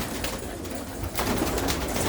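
Pigeons kept by a fancier in a village loft coo softly and steadily close by, with a constant murmur of low throaty calls that thickens partway through, no voices over them.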